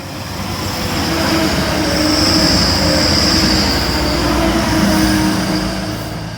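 A train passes on a British railway line, a loud, close rumble of wheels on rails with a high metallic squeal riding on top, swelling and holding steady throughout without speech.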